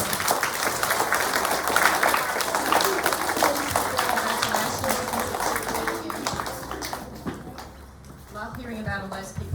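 Children and staff at a school assembly give a round of applause, steady crowd clapping filling the room for most of the stretch, tapering off toward the end.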